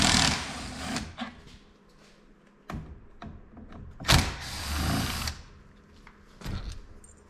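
Screws are backed out from beneath the handlebar switches of an Arctic Cat Bearcat 454 ATV, heard as close whirring tool bursts mixed with small clicks and handling noises, with no talking.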